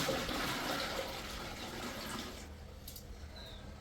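Water gushes into a large pot of rice for soaking, a loud continuous rushing pour that thins slightly toward the end, with no voices.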